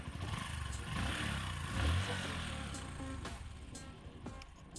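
Bajaj Discover 125 motorcycle engine revving with a tappet fault, a steady close mechanical drone with rattling clatter and a brief louder surge partway through, no talk.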